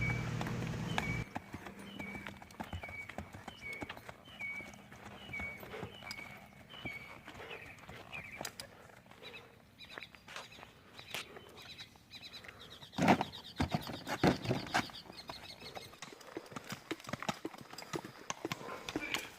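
Hoofbeats of a gaited Saddlebred racking horse wearing keg shoes: a steady, even clip-clop running through the clip, moderately close, with a louder clattering patch near the end and some background noise.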